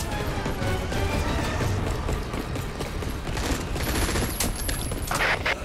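Sustained automatic gunfire from Earth Defence Force 6 as players shoot grenades dropped by alien dropships: a loud, dense, continuous rattle of shots layered with thuds and mechanical clatter, with a thin high whine near the end.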